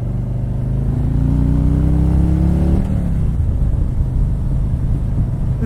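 A 2019 Harley-Davidson Street Glide 107 motorcycle cruises at highway speed, its deep engine drone loud and steady with a slight shift in pitch partway through, wind noise blending in.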